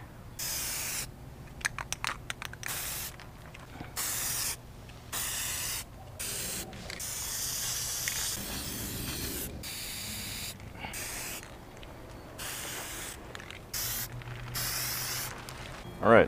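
Spray paint hissing onto a custom dirt bike frame in a series of steady bursts, each lasting a second or two, separated by brief pauses, close and clear with no talking.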